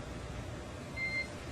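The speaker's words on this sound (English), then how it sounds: "you'll be hearing those very characteristic beeps" Two short, steady electronic communication beeps sound around the middle of a SpaceX Crew Dragon comm check, standing out above a constant hiss of radio static, with no talking.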